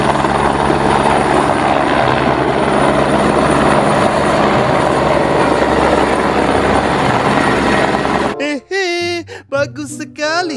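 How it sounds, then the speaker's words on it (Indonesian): A toy helicopter gives off a steady, loud whirring drone with no change for about eight seconds, then stops abruptly as a voice begins talking. "Wow, lihat teman-teman, ini pesawat helikopter."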